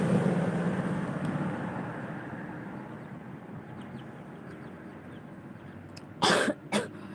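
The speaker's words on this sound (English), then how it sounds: "I think I'm starting to have cough." Two sharp coughs near the end, close and loud, after a stretch of quiet background hum.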